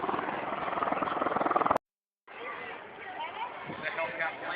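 Helicopter at an outdoor air show, a loud steady pulsing rotor chop that cuts out briefly, then returns with crowd noise and voices.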